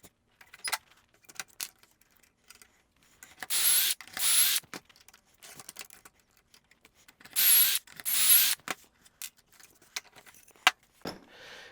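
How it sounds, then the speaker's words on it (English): Two short bursts of drilling dowel holes into plywood with a doweling jig, each roughly a second long and close by, separated by quieter clicks and handling of tools and wood. "Now once I get the first hole drilled, the rest will be easy because I can just align with the doweling jig."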